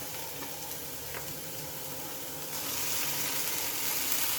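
Potatoes and onions frying in a pan, a steady close sizzle with faint stirring clicks that grows slightly louder midway, no talk.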